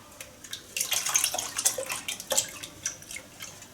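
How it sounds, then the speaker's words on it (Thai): Leftover pandan water is poured into a kneaded dough for a Thai pandan dessert, producing close wet splashing and dribbling with irregular drips and gloops, alone without talk. "เราก็จะใส่น้ำใบเตยที่เหลือไปนะคะ"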